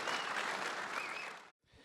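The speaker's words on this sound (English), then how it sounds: "Let's give Caleb Smith a round of applause." An audience at a Big Buck Night East hunting event claps for a successful deer hunter who took a Jackson County buck. The applause is dense and steady, then cuts off abruptly near the end before a faint return.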